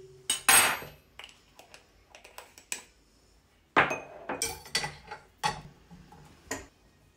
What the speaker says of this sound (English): I'm gonna mix all those ingredients